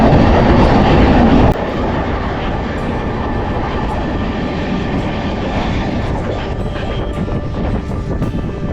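The Deccan Queen Express passenger train roars into the Khandala tunnel in the Western Ghats, a loud steady rumble of wheels and rails that drops abruptly in level and stays as a dense, enclosed drone.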